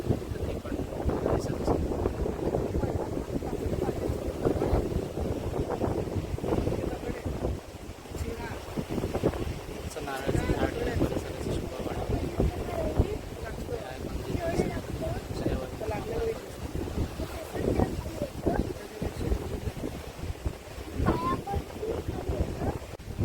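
Sea roar near a seaside temple, with a jetty across the water: a steady broadband wash of waves and wind buffeting the microphone, continuous and fairly loud throughout, with no talk over it.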